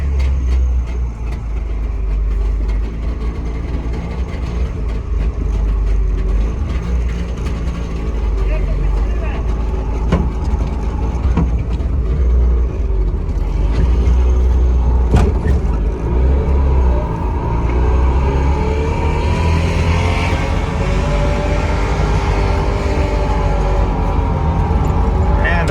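Trabant car pulling away on a Danube river crossing in Hungary, a steady low engine rumble running continuously throughout, with people talking over it.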